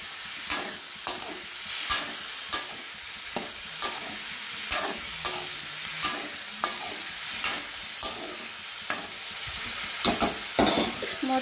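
Onions or vegetables frying with a little turmeric in a pan, stirred with a spatula that scrapes and taps in a steady rhythm of about one stroke a second over a continuous soft sizzle, close and with no talking.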